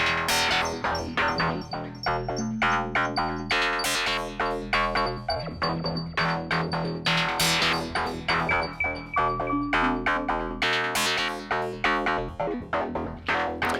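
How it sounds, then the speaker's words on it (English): A Digitone synthesizer bell-like tone plays a rapid repeating 64-step sequence of struck notes, each chiming and decaying, forming a steady rhythmic pattern over a sustained bass. "And I have some sort of bell sound here."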